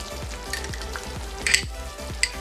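Gravy for chicken malai kofta sizzles and bubbles in a pan, a steady close frying hiss with a few brief sharper spatters, no talking.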